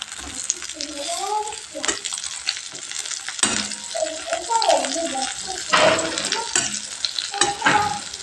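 An egg fries in oil in a pan and is flipped and stirred, with a continuous sizzle and occasional scrapes while a person talks over it.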